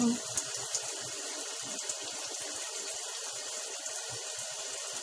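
Shower water pouring steadily during a bath, a constant close hiss of running water with a few faint knocks and splashes underneath, no clear talking.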